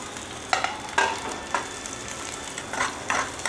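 Green chilies fry in a pan with browned onions, giving a steady close sizzle broken by several sharper scrapes and clatters as a spoon stirs them, one every half second or so.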